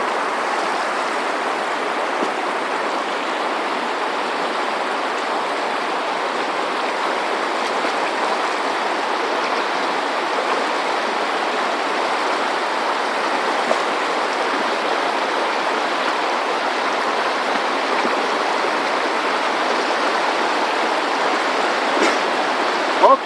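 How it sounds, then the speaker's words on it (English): Water rushing steadily through a gold sluice box loaded with material, a dense continuous outdoor wash of flowing water, even and close with no talking. "Now I'm going to go put this through the sluice box."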